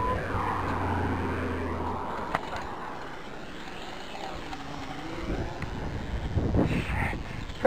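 An SG700 drone buzzes with steady wind-like rotor noise, pitch sweeping up and down as it flies and sets down, with a brief thump near the end.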